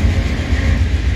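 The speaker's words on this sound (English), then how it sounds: "And there goes the train, headed for Seattle." Amtrak Coast Starlight passenger train pulling away, a steady loud low rumble and rolling rail noise throughout with no clear wheel clicks.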